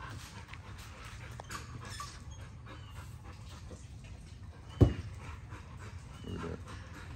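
An American Bully dog pants softly and steadily at moderate distance, with faint whimpering and one brief sharp knock partway through, no talking.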